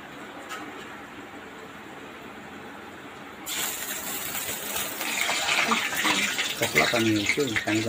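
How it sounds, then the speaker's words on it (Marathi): Fried dahi vadas dropped into a bowl of plain tap water, heard as running and splashing water. It starts quiet, then turns louder and more continuous partway through, close to the microphone. "आता आपण त्याला बाहेर काढूया. ओके. आणि हे असेच काढून पाण्यामध्ये टाकायचे."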